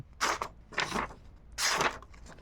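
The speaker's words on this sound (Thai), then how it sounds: "คมมีดมันฟันกระดาษยาก" A short premium VG10 steel pocket knife slices through paper in three crisp, close cutting strokes with brief pauses between them.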